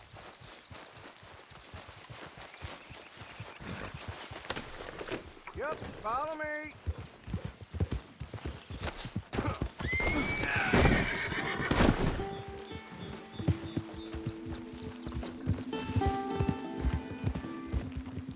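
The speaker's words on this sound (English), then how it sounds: "Get your horses." Horses in Red Dead Redemption 2 whinny and neigh several times over clip-clopping hooves, with someone speaking briefly and other game sounds around them.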